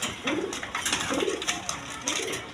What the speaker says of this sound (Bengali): দেখেন একদম বিগ সাইজের শৌখিন কবুতর